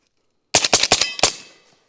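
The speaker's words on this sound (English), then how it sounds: "Let's just go ahead and just empty the mag out." A Cobalt Kinetics .300 Blackout rifle fired until the magazine is empty: a loud, rapid string of four or five close shots, a short pause, then one more shot, with the reports fading into an echoing tail.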